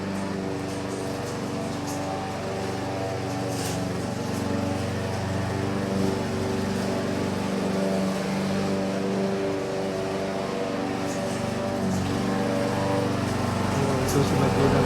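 A small grass trimmer engine runs steadily nearby with a constant droning hum, holding an even pitch throughout.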